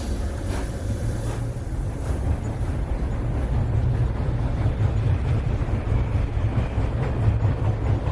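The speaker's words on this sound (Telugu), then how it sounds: "ఈ ట్రైన్ ఉన్నట్టుండి ఎలా నడుస్తుంది?" A train that has suddenly started moving gives a loud, continuous low rumble with a rushing, wind-like roar that builds slightly and holds steady, with no voices.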